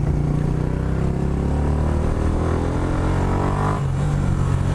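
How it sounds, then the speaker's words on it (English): Motorcycle engine with a loud aftermarket exhaust, a deep steady rumble held close and continuous, with no talk over it. "And it pops and everything, and it's just a beast of an exhaust."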